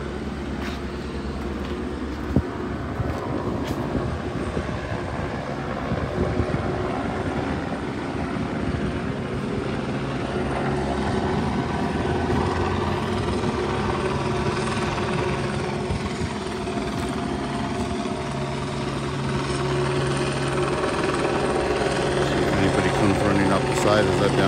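Helicopter hovering and circling overhead during a search in La Puente, a steady loud rotor and engine drone that fills the whole stretch, with faint voices underneath.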